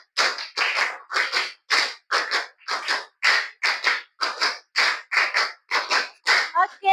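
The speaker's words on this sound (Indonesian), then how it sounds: "tepuk tangan 5 kali" Hands clapping in a classroom, sharp bursts of many pairs of hands striking together in a steady rhythm of grouped claps, close and loud, with no talking between them.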